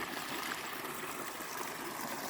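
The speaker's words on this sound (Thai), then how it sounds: "ระบบน้ำโซลาเซลล์ของเราก็ทำงานตลอด 24 ชั่วโมงนะคะ น้ำไหลตลอดนะคะ" Water from a solar-powered pump irrigation system in a rice field flows in a steady, even rush, a continuous broadband hiss heard alone at moderate distance.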